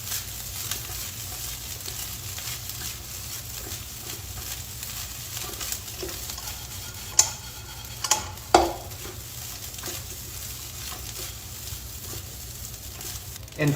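Egg fried rice with salt and sugar stirred in a pan, a low steady sizzle under occasional scrapes and a few sharp clinks of the spoon against the pan.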